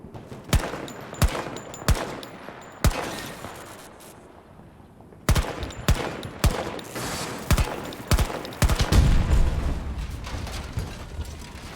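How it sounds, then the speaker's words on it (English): Gunfire in the Battlefield 2042 open beta aimed at charging stations: sharp, loud single shots and short bursts spaced irregularly, with a louder cluster of rapid shots near the end and no talking. "But they explode in kind of a weird way when you shoot them."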